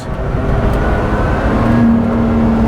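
A Lotus Exige sports car engine hums steadily and close by, with a rising tone that suggests it picking up speed.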